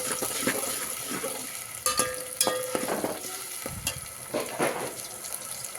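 Goat masala for barbat fries in a pan with onion, garlic, turmeric and tomato, a steady sizzle broken by repeated clinks and scrapes of a spoon stirring against the metal.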